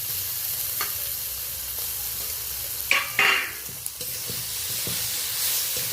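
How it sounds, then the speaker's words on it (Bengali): Ginger, grated onion, tomato and green chilli stir-frying in a pan: a soft steady sizzle with a few sharp scrapes and clatters of the spatula partway through, close by and without speech. "আদা, গ্রেট করে রাখা পেঁয়াজ, টমেটো, কাঁচা লঙ্কা ভালো করে আমি নেড়ে নিয়েছি।"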